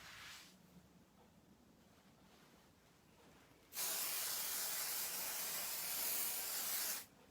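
Spray baste adhesive is sprayed over three quilt layers for embroidery: a faint early hiss, then a loud continuous aerosol spray of about three seconds that cuts off abruptly, heard close with no talking.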